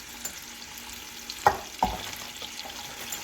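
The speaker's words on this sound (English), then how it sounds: "And you let that saute for a little bit." Onion and carrots cook in a pot under a faint, steady background, broken by two sharp stirring clatters close together near the middle.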